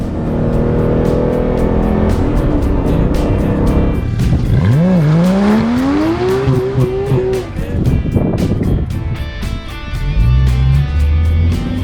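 Porsche 911R on a test drive, its engine loud and close, revving hard and pulling up through the gears in a rising whine with shifts between pulls, over constant road and wind noise.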